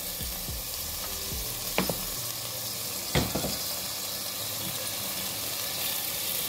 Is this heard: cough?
no